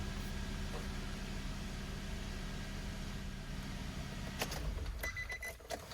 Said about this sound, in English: I'm gonna start the engine till the oil light shuts off